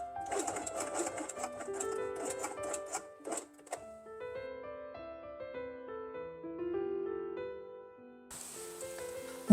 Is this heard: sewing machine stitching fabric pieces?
yes